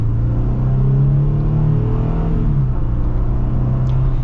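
A 2025 Jeep Wrangler V6 engine revs loud and close with a deep, steady rumble. Its pitch climbs and holds, then drops back about halfway through.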